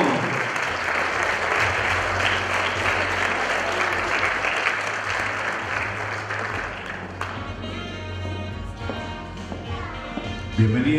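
Enthusiastic applause welcoming the godparents at a quinceañera celebration, a steady wash of clapping for several seconds before an announcer's voice and music rise over the fading claps.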